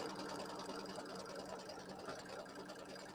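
An embroidery sewing machine stitching a quilt border, a continuous fast mechanical whirring hum with rapid needle chatter, close and steady for the whole stretch.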